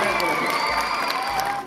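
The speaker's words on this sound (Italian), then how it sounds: "Un grandissimo applauso al mitico Simone." Cheers and applause rise from a crowd at a children's singing selection event for Zecchino d'Oro 2018, a loud, steady blend of clapping and excited shouting heard up close.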